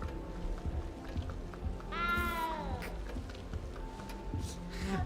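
A cat meows once in a video game, a clear, drawn-out, falling call from a castle setting, heard over steady background game sound.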